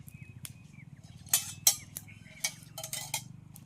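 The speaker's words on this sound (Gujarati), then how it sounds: "લોયું મૂકશું" Metal cookware clinks and clanks as a pan is set on the stove, a few sharp knocks and scrapes over a low background hum.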